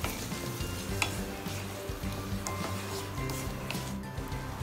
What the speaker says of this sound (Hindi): अभी हम इसमें डाल देंगे टमाटोज। टमाटोज डालने के बाद इसे अच्छी तरीके से पका लेंगे।